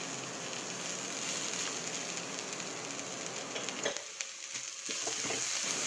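Crushed beef frying with spices and cumin in a pan, a dense, loud hiss of sizzling oil that briefly dips before swelling again, with no talking.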